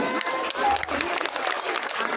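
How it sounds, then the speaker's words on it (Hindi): A crowd at a Phool Dei festival gathering claps steadily, a full, busy applause close by with a brief tone and a little voice underneath. "तालियां आप लोग अवश्य बजाएं।"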